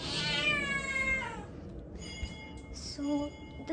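A cat meows repeatedly while being fed biscuits, with long drawn-out, rising and falling cries up close, then a short pause and a few shorter meows near the end.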